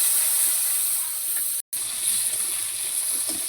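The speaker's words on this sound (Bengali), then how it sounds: "এবার দিয়ে দিচ্ছি কেটে রাখা আলু" Cut potatoes dropped into hot oil already tempered with radhuni and dried red chilli, giving a loud, continuous close hiss of frying that breaks off for an instant and resumes just as strongly.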